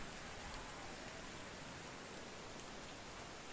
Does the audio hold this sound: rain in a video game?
yes